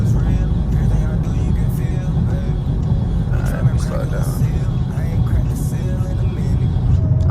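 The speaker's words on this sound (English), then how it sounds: "this car sounds so good though" Dodge Charger 392 Scat Pack cruising in auto mode on city streets, a steady low engine rumble and road noise throughout from inside the car, with no rise or fall in level.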